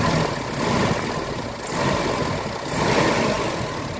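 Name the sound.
Mitsubishi Adventure gasoline engine idling roughly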